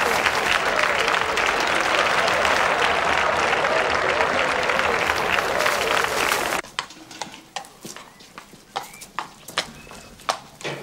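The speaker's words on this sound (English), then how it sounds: "Well-deserved applause there for Humpty Hamilton" Spectators at a show jumping event give Humpty Hamilton warm, steady applause for roughly six and a half seconds before it cuts off, leaving sparse hoof clip-clops and horse sounds at a moderate distance.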